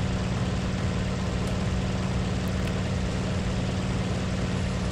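An A6M Zero fighter's radial propeller engine in the flight sim Aces High 2, a loud, steady, even drone filling the whole stretch with a constant low throb and no voices.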